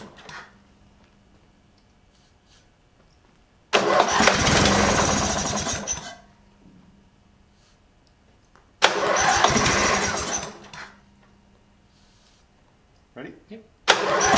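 A lawnmower with a bad solenoid and fuel pump cranks into two loud bursts of engine noise, each lasting about two seconds, with quiet gaps between them and a third burst starting at the end. People talk nearby.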